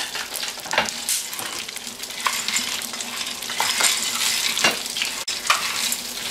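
Popcorn-style corn kernels (canchita) toasting and sizzling in a covered pan while being stirred constantly, a steady crackling fry with scattered sharp pops and scraping clicks, close and fairly loud throughout, no talking.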